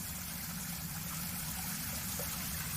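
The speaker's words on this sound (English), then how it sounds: "water movement over here" Water flows steadily at a quiet outdoor prayer spot, a soft continuous rushing and trickling wash with a low rumble underneath, faint and unbroken.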